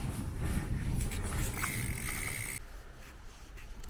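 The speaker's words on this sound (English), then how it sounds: "I'm riding with my bicycle here." A bicycle ride recorded on a DJI Pocket camera carries steady rolling road noise and wind rumble, with a brief high mechanical whine partway through before the sound settles quieter.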